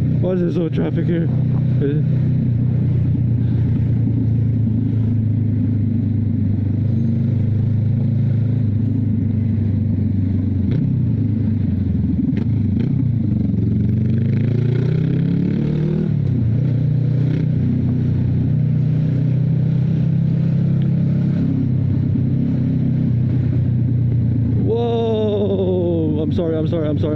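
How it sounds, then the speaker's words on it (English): Road traffic heard from a Honda Rebel 500 motorcycle: a steady loud engine drone with rising and falling pitch as vehicles pass, occasional clatter, and a horn-like sweep near the end, a rider talking over it at times. "Why is there so much traffic here?"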